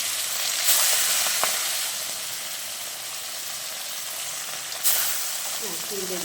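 Steady sizzle of frying in a very hot kadai, a continuous hiss with a couple of brief louder bursts, fairly close and with no speech.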